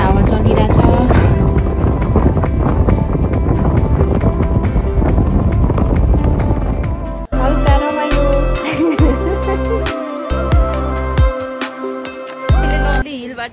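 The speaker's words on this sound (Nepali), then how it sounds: "एकदमै हावा चलिरहेछ" Strong wind buffets a hilltop above Beni bazaar in Myagdi, Nepal, roaring loudly into the microphone for the first half, then dropping to gusty bursts as a voice speaks.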